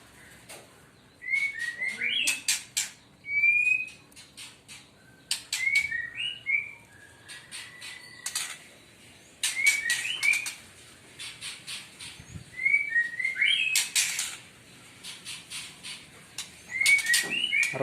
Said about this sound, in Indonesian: Beranjangan